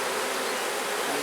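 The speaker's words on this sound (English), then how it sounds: "Bees got some cleaning to do." Honeybees buzz around an open hive, forming a dense, steady drone close to the microphone with no break and no voices.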